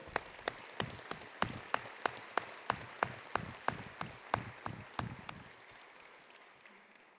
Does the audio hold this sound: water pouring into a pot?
no